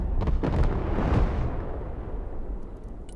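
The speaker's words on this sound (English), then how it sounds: "now it's been hit with rockets." Rockets slam into a ZU-23 anti-aircraft gun carrier in the Broken Arrow war game, a loud run of close, booming blasts over the first second and a half, then a long rumbling decay.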